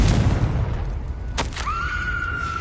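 Confringo blasting spell cast in Hogwarts Legacy: a single sharp, bright blast bursts out midway over a rumbling low background, followed by a sustained ringing tone that lingers to the end.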